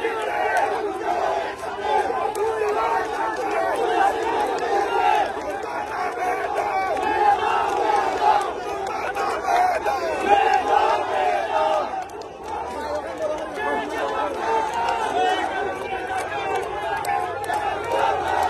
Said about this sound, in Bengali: তারা আসলে বিভিন্ন ধরনের স্লোগান দিচ্ছেন